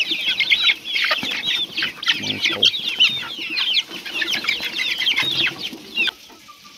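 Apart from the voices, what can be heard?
chicks of free-range country chickens at feeding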